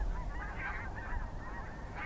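Snow geese honking repeatedly overhead, their calls overlapping against a steady rush of wind and outdoor noise.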